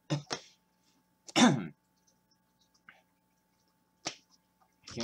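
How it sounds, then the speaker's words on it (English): A person suffering a bad cough hacks out several short, separate coughs, two quick ones at the start, a heavier one after a pause, then more near the end, close and alone in a quiet room. "I'm coughing like crazy"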